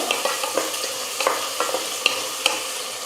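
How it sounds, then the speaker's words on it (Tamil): Two green chilies sautéing in a pan with onions for a chapati side dish, a close sizzle broken by a few quick spoon scrapes and taps. "இது கூடவே ரெண்டு பச்சை மிளகா சேர்த்துக்கிறேன் ஒரு ரெண்டு நிமிஷம் நல்லா வதங்கட்டும்"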